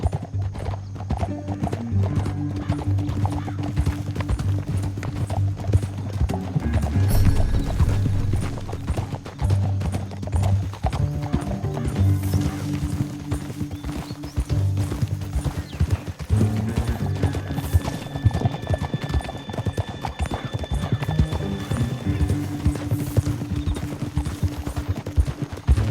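Steady clip-clop of horse hooves over a droning musical score, with an occasional whinny, in Red Dead Redemption 2; hoofbeats stay close and continuous throughout.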